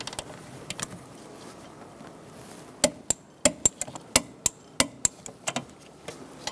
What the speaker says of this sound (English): I'm going to torque these nuts to 20 foot-pounds.